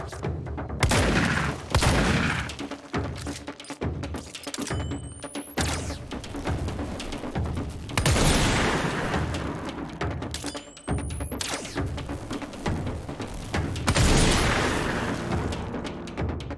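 Rocket fire and repeated explosions in the video game Control, a dense barrage of booming blasts and bursts recurring every few seconds, loud and continuous with rising whooshes between impacts.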